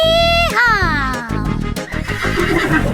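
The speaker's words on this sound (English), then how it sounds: "And on his farm he had a horse, E-I-E-I-O. With a neigh neigh here and a neigh neigh there" A cartoon horse neighs loudly in a children's farm song, a high whinny sliding down over about half a second, followed by sung voices and music.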